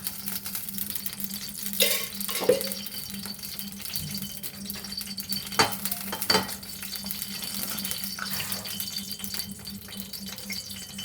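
Oil is heated in a hot kadai on the stove and stirred, a soft continuous sizzle with occasional scraping and metallic rattles of the spoon against the pan, close and quiet.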